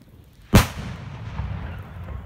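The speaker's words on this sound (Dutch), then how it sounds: "Dat is wel vuurwerk." A single sharp, loud blast from a Zink 930 ball rocket firework bursts outdoors, followed by a long rumbling echo that slowly fades away.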